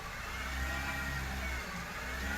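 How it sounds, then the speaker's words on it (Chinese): A car on a road test after chassis noise repairs accelerates under throttle, giving a steady, continuous engine drone and road rumble with no speech. "加油门"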